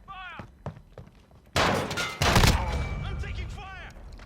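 Gunfire in a Modern Warfare 2v2 alpha match, sharp bursts of shots and heavy thuds erupting after scattered clicks, loud and close, with a brief pause before a second burst and sustained noise trailing off.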